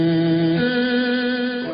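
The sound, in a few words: organ played through a fuzz box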